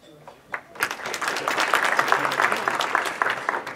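An audience at a pitch competition show breaks into applause, starting after a brief pause and building into steady, fairly close clapping that holds to the end, with some voices mixed in.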